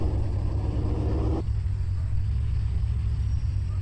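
A Ferrari's engine rumbles steadily in the car dealership game Car for Sale, a loud low drone whose higher tone drops away partway through as if the revs fall, leaving a continuous idle rumble.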